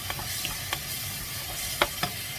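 Eggplant frying in shallow oil in a pan, a steady soft sizzle with occasional sharper crackles and light stirring clicks scattered through, heard alone without talk.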